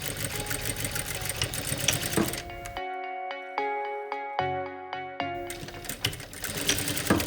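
Sewing machine stitching through stiff, interfaced fabric pieces with a light lining, a loud close whirring run at the start and end with a quieter, steadier hum in between.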